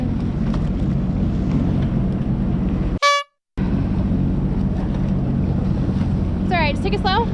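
A 19 ft jet boat engine running rough after an exhaust clamp failure, crossing open water toward the Bahamas: a loud, steady roar with wind noise that cuts out briefly and returns, with a horn-like tonal sweep near the end.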